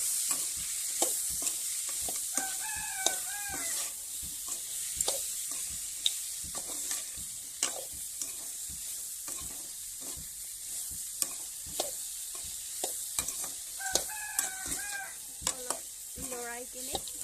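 Pork frying with bitter gourd and potato sizzles steadily and close, with frequent scrapes and taps of a stirring spoon and a few brief high voices or chirps in the background.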